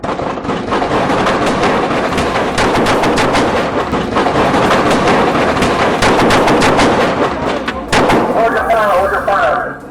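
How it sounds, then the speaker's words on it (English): Police officers open fire at the end of a high-speed chase, producing a loud, dense volley of rapid gunshots that keeps cracking for several seconds, mixed with shouting voices and vehicle noise. "Perceiving a direct threat, officers opened fire."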